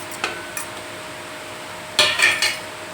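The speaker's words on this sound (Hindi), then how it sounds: "तो हम ये अपने जो भी सेब रखे हैं ये अब चाशनी में" Apple pieces for murabba drop into boiling sugar syrup in a pot, giving a few sharp clinks and splashy knocks against the metal, one early pair and then a cluster of three, over quiet kitchen background.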